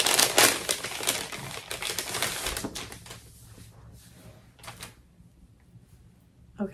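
Paper wrapping crinkles and rustles busily as an advent gift is unwrapped at home during a knitting-themed opening, loud at first and then thinning to sparse rustles with a final crackle near the end.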